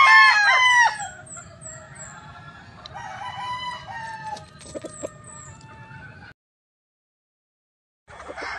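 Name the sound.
gamefowl rooster crowing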